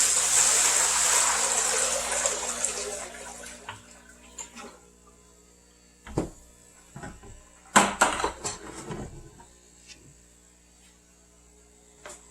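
Water pours from a tap into a plastic hydroponics tub, a loud steady rushing gush for about three seconds that then cuts off, leaving quiet broken by a few hollow clunks and knocks of the container.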